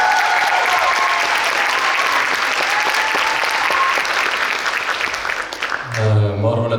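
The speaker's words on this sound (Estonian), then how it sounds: "teie ei olnud üldse kitsid oma aplausidega" An audience at a school dance festival concert applauds with loud, dense clapping that holds steady for several seconds before dying away as a voice begins speaking.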